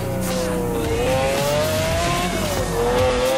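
McLaren F1 engine in Forza Horizon 4, a steady high-pitched drone that shifts pitch slightly as the car runs continuously at speed, loud and close with tire noise underneath.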